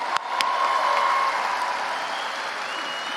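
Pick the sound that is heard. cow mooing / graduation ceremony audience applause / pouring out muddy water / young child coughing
graduation ceremony audience applause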